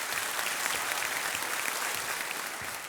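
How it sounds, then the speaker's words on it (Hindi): Loud, dense clapping from a studio audience on a televised quiz show, welcoming a contestant's family members, holds steady and close throughout with no talking over it. "तालियों के साथ इनका भी स्वागत किया जाए"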